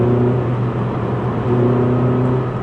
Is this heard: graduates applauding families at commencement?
no